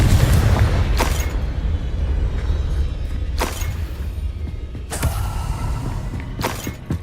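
Blasting fire spell explosions in a fantasy wizard video game, a series of booming blasts with sharp onsets, loud and close, over a steady low rumble of background game noise.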